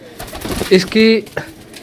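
A Farsiel pigeon gives a few close, low coos, short and mellow, with soft background noise between them.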